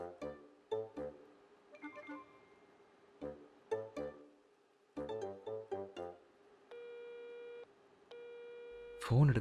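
An unanswered phone call sounds a repeated ringback tone in two long steady bursts, following earlier clipped electronic tones, with a short louder rustle at the end; no speech over the tone.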